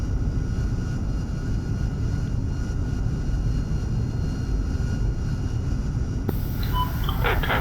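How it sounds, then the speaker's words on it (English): An A-4 jet taxies on an aircraft carrier deck in the DCS flight simulator game, its engine a steady, loud roar throughout with a brief sharper sound near the end. "A4 on the deck is taxiing"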